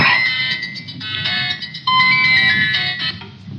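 A cellphone ringtone plays a bright repeating electronic melody, loud and close, with short pauses between phrases and no voices over it.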